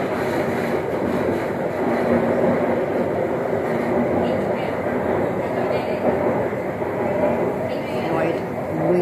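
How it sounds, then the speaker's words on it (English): A metro train running on the tracks toward Botanical Garden station, with a steady loud rumble and rail noise throughout, and a voice talking over it. "I'm standing right in front of the train."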